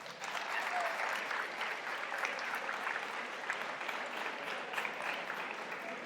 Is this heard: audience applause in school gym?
yes